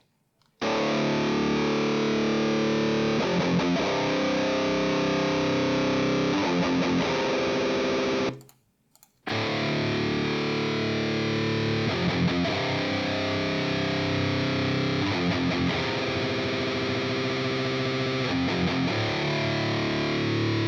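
Heavily distorted electric guitar chords played through a real guitar cabinet ring out loud and sustained, with a brief silent gap midway before the chords resume and keep driving.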